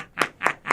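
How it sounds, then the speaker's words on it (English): Three sharp, evenly spaced bursts of hand clapping, a short round of applause from a small group of people, close and fairly loud with no talking over it. "I'd just like to give you a round of applause for your,"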